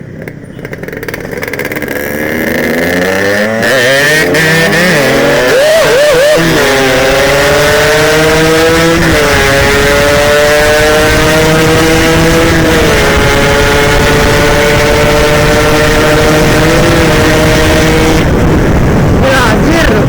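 A Yamaha RX King two-stroke motorcycle revs hard, its loud buzzing engine note climbing repeatedly through the gears for a long sustained run, with voices speaking under the roar.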